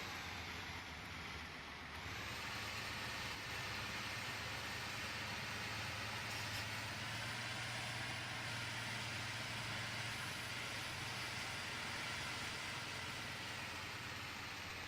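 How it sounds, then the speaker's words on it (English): Ford 6640 tractor engine from the game Farming Simulator 2015, a continuous high-pitched modern-sounding drone that holds steady after a brief dip near the start, with no talking. "it gets really high pitched, and it sounds a bit modern for the age of the tractor"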